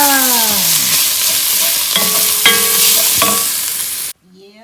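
Spices frying with onion, garlic and ginger for a Moroccan chicken stew: a loud, steady close-up sizzle with a few knocks and scrapes of stirring, cutting off abruptly near the end.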